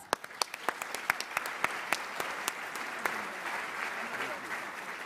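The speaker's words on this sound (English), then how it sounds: "Round of applause." Audience applause at a Latino leadership discussion with the President's Cabinet, starting with scattered sharp claps that settle into steady, moderately loud clapping from a room of people.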